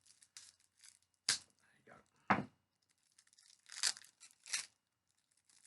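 A knife slits open the plastic wrapping on a pack of cards for the Carpe Diem board game, giving several short, close tearing and crinkling bursts separated by quiet pauses.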